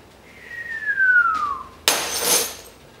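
A whistled falling tone imitates an incoming object, then a sudden loud crash of broken pint glasses and ceramic mugs clatters and rings out for about a second as a sound effect.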